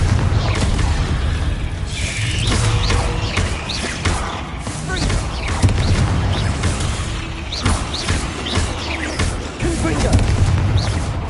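Fire-spell explosions from Hogwarts Legacy burst repeatedly through a dense, continuous battle mix of booms, crashes and thuds, with voices shouting over the fight.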